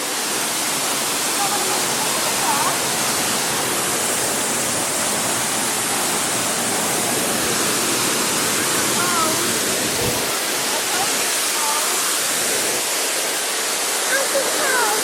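Ulu Petanu waterfall roaring as a constant, broad rush of falling water, close and loud throughout, with brief voices now and then under the torrent.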